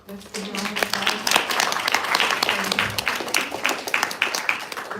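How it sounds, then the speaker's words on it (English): An audience claps for a speaker at a fireside chat, a brisk round of applause rising quickly and holding steady, with talk and voices mixed in beneath it. "Let's give a round of applause."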